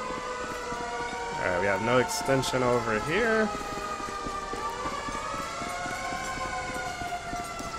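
Fire engine siren in GTA 5 as an LAFD engine arrives, a wailing, yelping siren that rises loudly mid-way, with someone speaking briefly over it and steady engine hum beneath.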